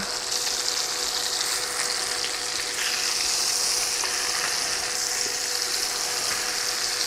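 A roast sears in a hot pan after being flipped, with a loud, continuous sizzle and crackle close by that holds steady throughout.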